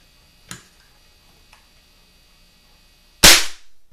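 A Brunswick rifle with a freshly repaired back-action lock: two faint mechanical clicks, then a single loud, sharp shot close by near the end, followed by a brief fading tail.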